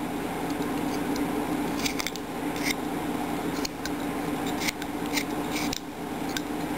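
A knife carves into a small mouse figure, cutting away material in close, dry scraping and slicing strokes with a few sharper snicks, steady and unbroken by talk.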